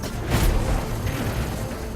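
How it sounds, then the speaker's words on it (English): An exotic trace rifle fires in the Destiny video game, giving a loud booming burst near the start that settles into a steady rumbling energy wash for the rest of the two seconds. "This is an exotic trace rifle. Fire it on an enemy and it creates a big old crit spot."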